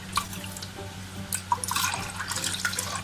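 Rice flour batter for red-dyed Chinese chive dumplings trickles through a sieve, giving soft wet drips and splashes over a quiet background for a few seconds, with no voices.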